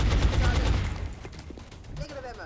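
Suppressive gunfire aimed at a Thin Man in XCOM Long War comes as a loud, dense burst of rapid shots that dies away into scattered cracks, with a voice talking over the end.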